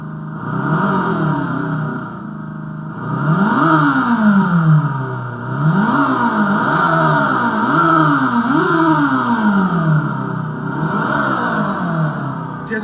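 Simulated exhaust sound from a fully electric motorcycle parked, revved repeatedly: several rising and falling engine-like sweeps in quick succession, loud and close, with no talking.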